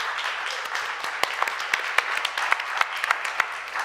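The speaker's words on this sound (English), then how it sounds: "I want to just have another huge round of applause for these guys" An audience at a real-time VFX talk applauds its presenters with a steady wash of clapping, where a few sharp individual claps stand out near the front and no voices are heard.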